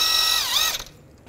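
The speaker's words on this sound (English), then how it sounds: "Take this bolt out." A ratchet spins out the crank pulley bolt on a 2010-2017 Chevy Equinox, giving a loud, close, continuous buzzing whir that dips in pitch and then stops abruptly, leaving near silence.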